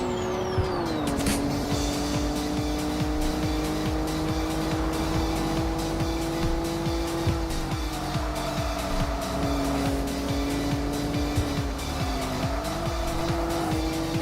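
In the racing game TXR3, a Nissan R34 GTR engine roars at steady high revs, dips briefly with each shift and climbs again, loud and continuous with hints of tire noise and no voices.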